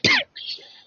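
A single harsh cough bursts out close by, followed by a softer raspy exhale trailing off.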